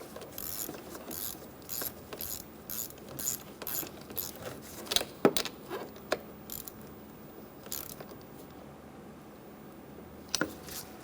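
A ratchet wrench snugs down the battery terminal on a 2003-2007 Honda Accord with short bursts of close, quick clicking, each run separated by brief pauses.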